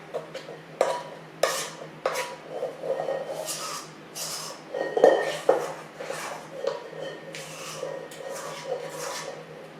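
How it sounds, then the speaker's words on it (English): Sugar being worked into a stiff cream cheese mixture for a strawberry cream cheese pie, with a utensil scraping and knocking against a bowl in irregular close strokes, fairly quiet, with no talk. "add the sugar a little bit at a time and work it into your cream cheese mixture"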